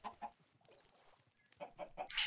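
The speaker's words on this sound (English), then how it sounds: "Follow me, my chickens." Chickens in the video game Minecraft clucking in a quick run of close, fairly quiet calls, with no talk over them.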